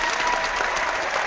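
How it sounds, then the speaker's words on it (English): Brief clapping during a live call-in program, a dense steady burst of hand claps at fairly close range, lasting just over a second with no talk over it. "Let me clap for you"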